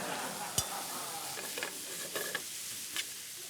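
Quiche Lorraine bacon sizzles softly in its drippings, a faint steady hiss with a few brief stirring clicks and scrapes.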